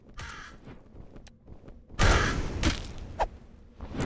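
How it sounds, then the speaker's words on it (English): Crows caw sharply in a fantasy dungeon game, a few harsh calls with fluttering whooshes and thuds between them, close and fairly loud. "Birds!"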